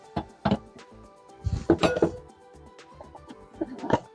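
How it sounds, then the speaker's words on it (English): A little spoon scooping mayonnaise for Hawaiian chicken taco slaw, giving several light clinks and taps against a dish, close and irregular, with faint rustling between. "I'm going to put 2 scoops in with my little spoon"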